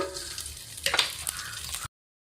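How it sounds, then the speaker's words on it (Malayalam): Cashews and raisins sizzle in hot ghee in a pan over a gas flame, a brief crackling fry with a few stirring scrapes that cuts off abruptly after about two seconds. "ഞാൻ ഈ അണ്ടിപ്പരിപ്പ് മുന്തിരിങ്ങ ഇടാൻ പോകും."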